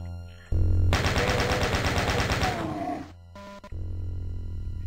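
In Doom 2, a chaingun fires a fast, loud burst of rapid shots for about two seconds, with game sound effects and groans mixed in before and after.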